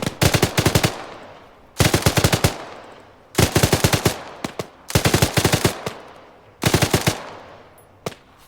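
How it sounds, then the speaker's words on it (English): Loud bursts of automatic gunfire from AI units in the video game Arma 3, five rapid volleys spaced about every second and a half, with reverberant tails between them and a single shot near the end. "AI doing a much better job than usual actually returning fire."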